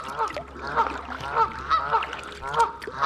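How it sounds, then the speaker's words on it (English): Nesting geese on a reservoir island honk repeatedly in rough, nasal calls, several birds overlapping at a moderate distance in a steady, rhythmic chorus. "There's a bunch of nesting geese on the island."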